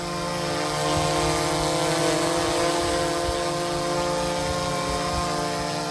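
A K600PRO GPS camera drone hovers nearby, its propellers producing a steady, loud buzzing whine with layered tonal harmonics and slight fluctuations in pitch as it holds position.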